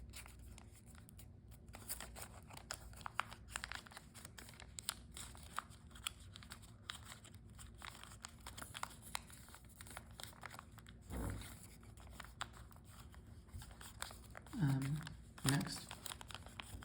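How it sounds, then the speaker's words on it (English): Sheet of paper being swivel-folded while making an origami mouse, soft close crinkles and rustles scattered through, with a couple of sharper crumpling bursts near the end; quiet overall. "Next, swivel fold these two edges like that."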